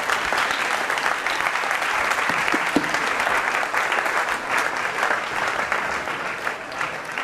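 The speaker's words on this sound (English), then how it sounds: "yes, applause is appropriate." A lecture class claps steadily, a dense patter of applause that holds for several seconds before thinning slightly.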